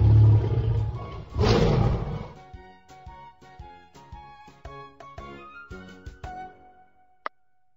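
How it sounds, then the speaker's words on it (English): Big, booming lion roar from a children's animal-learning puzzle game, a loud rumbling burst at the start followed by a second roar, then light chiming game sounds fading out. "Lion."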